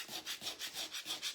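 A surface is scuffed by hand to distress it during an upcycling craft project, a quick series of about seven soft, rhythmic rubbing strokes, close and faint, with no voices.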